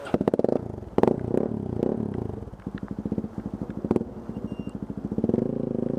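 Dual sport motorcycle engine chugs at low idle in pulsing bursts while the rear tire spins in mud on a slide, close and fairly loud, with brief rev surges and no talk.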